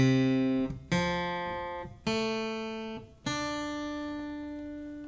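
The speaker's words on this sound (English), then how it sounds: "The guitar is tuned standard tuning but down a whole step," Guitar in standard tuning lowered a whole step, strummed as four separate chords, each struck firmly and left to ring and decay before the next, close and clear with no voices.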